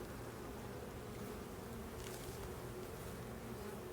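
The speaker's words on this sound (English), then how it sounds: "There's a drone bee right there. Most all of the rest of these are workers, but that's a drone." Honeybees, workers with a drone among them, buzz in a dense, steady swarm drone close by, a continuous hum with no voices.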